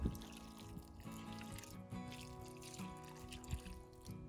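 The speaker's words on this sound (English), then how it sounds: "Then I'm going to water in with some of the seaweed solution." Seaweed solution is poured from a watering can onto freshly planted bare root raspberries, giving a steady trickling splash under a faint background hum.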